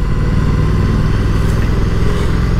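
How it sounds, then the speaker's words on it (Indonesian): Moto Guzzi V100 Mandello Aviazione Navale motorcycle engine braking on a road, a steady loud close engine drone with a low rumbling pulse and rushing wind, with no other sounds. "kebanyakan mengandalkan engine brake motor ini."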